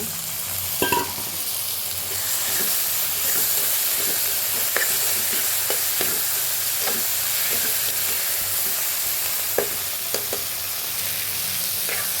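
Tomatoes and brinjal fry in a pan for a pesalu vankaya curry, giving a steady continuous sizzle with soft stirring scrapes and occasional small pops and clicks, close and moderately loud, with no talking.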